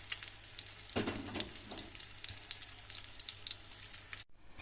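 Chicken cutlets fry in a pan with a steady crackling sizzle, a brief louder clatter near the start, and a short cut near the end.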